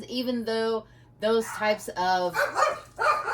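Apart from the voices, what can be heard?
dogs barking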